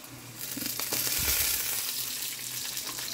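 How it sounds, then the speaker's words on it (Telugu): Ginger garlic paste dropped into a hot oiled pan sets off a sudden, steady sizzle that swells within the first half second and keeps crackling close and fairly loud, with no talking. "ఇక ఇప్పుడు ఇలా అల్లం వెల్లుల్లి పేస్ట్ వేసుకుందాం."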